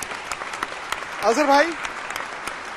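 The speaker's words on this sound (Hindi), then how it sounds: "प्लीज तालियां।" An audience claps steadily at an Indian cricket celebration event as star former players are introduced, with the clapping continuing under an announcer's voice on the microphone.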